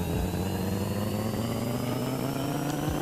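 A Honda Civic engine in the video game Pixel Car Racer revs on a dyno with a loud, steady synthetic drone whose pitch climbs slowly and evenly, with no speech.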